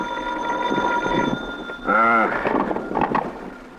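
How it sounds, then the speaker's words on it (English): Hotel room telephone ringing in an old-time radio detective drama, a steady electric ring sounding for a second or so, followed by a brief muffled bump. "until my hotel room phone rang in the morning"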